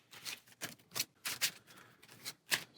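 Marvel Champions cards being shuffled in a series of short, crisp riffling bursts, roughly six in under three seconds, close and fairly quiet with no voices.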